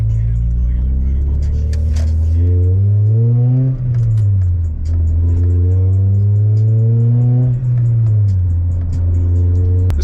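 A Toyota Supra engine revs up and eases back repeatedly while driving, a loud, close, droning rumble that rises in pitch with each pull before dropping at the shifts.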